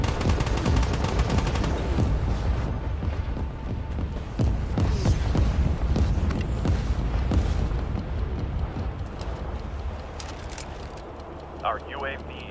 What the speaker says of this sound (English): Artillery fire incoming